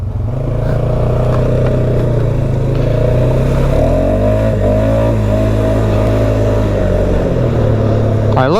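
A Polaris Sportsman 570 Trail Edition ATV with a single-cylinder engine ridden along a trail, its engine droning loudly and steadily close by, with the pitch rising and falling as it revs.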